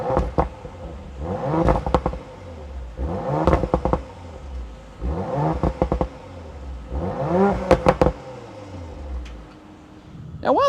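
A 2019 Audi RS5 Sportback's 2.9-litre twin-turbo engine blips its exhaust in four or five sharp rev bursts, each rising and falling with brief pauses between, close and fairly loud.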